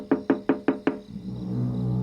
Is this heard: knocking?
yes